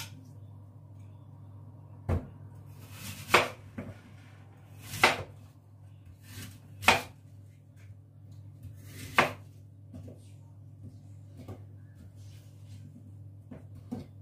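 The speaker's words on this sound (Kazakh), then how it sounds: "Мынайтип эле 4 буштук кылып, узун кылып эле кесип алабыз." An apple is sliced lengthwise into four pieces, with a few sharp knife cuts thudding onto a board at irregular intervals against a quiet kitchen background.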